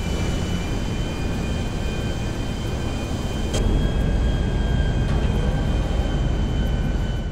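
A Vestra airplane in GTA V flies through rain and turbulence, its engine a loud steady broadband drone with a faint whine, plus a couple of brief sharp cracks midway.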